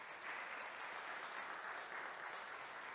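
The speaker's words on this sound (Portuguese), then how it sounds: "Pode aplaudir Jesus" Sustained applause from a church congregation, a steady crowd of hands clapping at moderate volume without a break.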